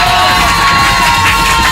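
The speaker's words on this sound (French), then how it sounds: "Oh, les applaudissements." A radio studio audience roars with loud, continuous cheering, whoops and shouts that fill the whole stretch without a break.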